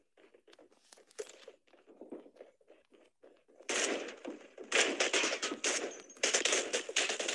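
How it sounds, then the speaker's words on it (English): Gunfire in the video game Badlanders: sparse faint pops and steps early on, then loud bursts of rapid shots from about the four-second mark, continuing in clustered volleys to the end. "Oh, no, he is shooting at me."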